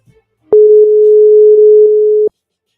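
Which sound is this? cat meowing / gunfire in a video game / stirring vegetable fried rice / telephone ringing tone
telephone ringing tone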